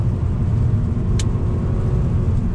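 A 2019 Mazda 3 AWD hatchback engine pulls steadily in third gear, a loud, low, constant rumble heard from inside the cabin with no talking.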